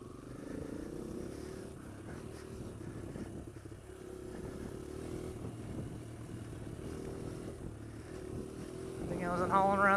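A Kawasaki KLX140L dirt bike runs steadily while being ridden, its engine note droning continuously at moderate level with a brief rise near the end, with a voice talking over it.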